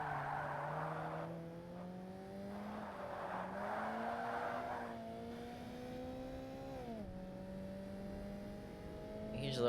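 Ultra-light race cars in the Forza Motorsport video game brake and rev, engine tones rising and dropping in pitch with bursts of tyre noise, fairly quiet and steady without talk.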